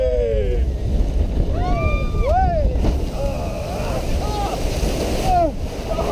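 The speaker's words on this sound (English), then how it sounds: "Wickie Splash. Not a bad log flume, that was good." Wickie Splash, a log flume ride at Holiday Park, rushing loudly through water with steady broadband wash and wind buffeting, while excited riders whoop and shout over it.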